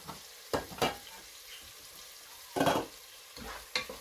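Meat fries in a pan for stir-fried bihon with vegetables, a low steady sizzle broken by several loud scraping bursts of stirring, close up with no voices.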